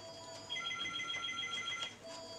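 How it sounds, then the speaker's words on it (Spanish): Telephone ringing indoors, a steady electronic trill holding for about a second and a half amid low room noise, moderately loud and close, with no talking. "Ahí el teléfono, no le voy a hacer mucho caso porque supongo que será telefónica"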